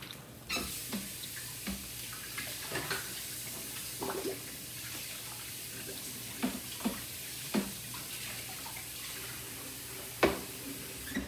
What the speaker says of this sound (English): Gotta wash my board.